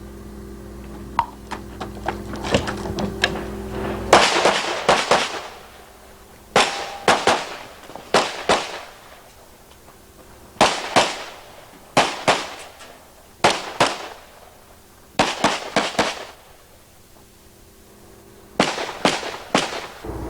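Pistol fire at a 1989 USPSA national championship stage, rapid strings of sharp cracks with metallic clangs from steel plates, grouped in bursts with short pauses between, loud and close.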